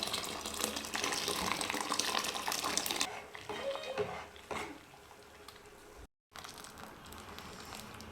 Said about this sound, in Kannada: ಈ ನೀರು ಸಾಕಾಗಲ್ಲ ಅದಕ್ಕೆ ನಾನು ಬಿಸಿನೀರಲ್ಲಿ ಸ್ವಲ್ಪ ಬಿಸಿನೀರು ಹಾಕಬೇಕು